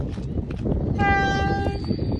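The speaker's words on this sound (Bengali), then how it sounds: "ওই যে হাঙ্গেরি থেকে ট্রেন আসতেছে" A train arriving from Hungary near the Romania–Hungary border sounds its horn loudly over a rumbling, clattering rail background, holding a steady tone for over a second.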